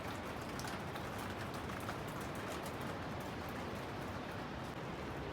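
Steady rain falls outdoors in a mountain village, a dense, even patter of drops on surfaces at moderate level throughout, with no voices.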